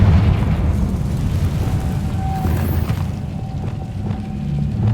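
Sustained low rumbling blast from a Confringo blasting spell in Hogwarts Legacy, a heavy continuous roar with scattered crackles and a faint tonal whine, loud and steady throughout with no talk.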